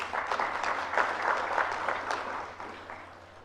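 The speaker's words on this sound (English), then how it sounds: "Let's extend a warm welcome to all our speakers with another round of applause" An audience at a plenary session on water challenges at the TERI School of Advanced Studies applauds to welcome the speakers, a steady wash of mid-level clapping that holds evenly, then thins slightly toward the end.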